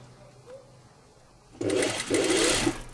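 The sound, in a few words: sewing machine stitching a pleat on a tunic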